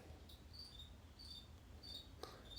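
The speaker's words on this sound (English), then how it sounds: "There's crickets coming from different angles today, unless it's the same one." Repeated cricket chirps in short bursts, roughly every second, over a steady low hum of indoor background noise; quiet and fairly close, with no talking.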